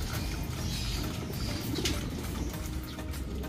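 Pigeons cooing steadily in a continuous murmur, close by, with soft rustling and low background hum throughout.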